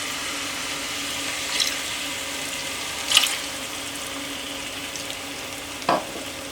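Fish pieces being gently sautéed in a pan give a soft, steady sizzle close by, with a few brief stirring clinks against the pan and no talking.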